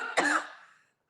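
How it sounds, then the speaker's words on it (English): A single sharp cough, close and fairly loud, fading into silence within a second. "I don't know why I keep coughing."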